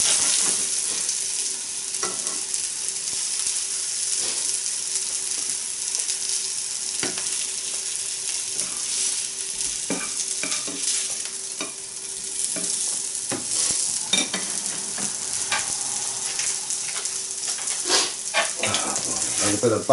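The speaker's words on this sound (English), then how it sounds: "Like the old sizzling sound." Hash browns sizzle and crackle steadily in a hot frying pan for the whole stretch, with occasional scraping and stirring clinks.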